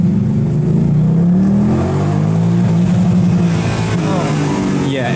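A Mercedes-AMG engine revs hard toward redline, its loud, close note climbing in pitch over several seconds while people talk over it.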